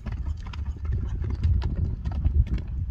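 An English thoroughbred racehorse walks with a steady, close clip-clop of hooves. The beats are rapid and uneven, with no voices over them.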